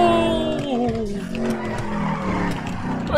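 A Mercedes-AMG GT63S in GTA 5 revs loudly with a rising, sweeping engine note and tire skid over continuous game noise, with faint talk from a voice now and then.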